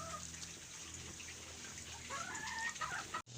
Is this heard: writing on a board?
no